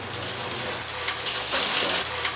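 Rain begins falling outdoors on a film shoot, a steady broadband hiss of drops with scattered louder patters, fairly close and continuous with no talking.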